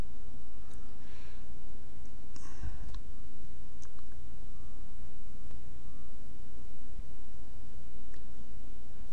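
Occasional faint computer mouse clicks, a few scattered single clicks, sound over a quiet steady room hum.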